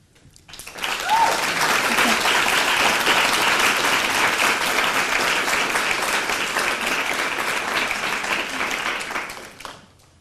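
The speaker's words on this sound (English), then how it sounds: "Okay, that little clap was allowed, I guess." Sustained audience applause at a public debate on Islam and feminism, a dense, even roar of many hands clapping that swells quickly, holds for several seconds and fades out near the end.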